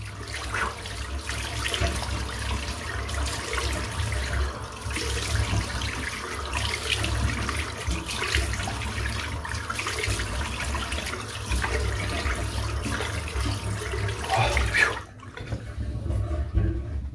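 Cold winter tap water runs in a steady, close, full-bodied stream from a faucet for about fifteen seconds, then cuts off abruptly, leaving a quieter, softer trickle.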